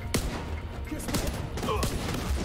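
Pistol gunfire in The Division 2 video game: three or four sharp, fairly faint shots spaced about half a second apart over game background noise.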